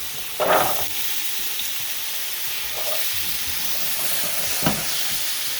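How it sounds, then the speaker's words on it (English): Carrots browning in oil in a pan for an Irish stew, giving a steady, close sizzle with a few brief stirring scrapes and clatters on top. "A little more oil. I'm going to brown my carrots."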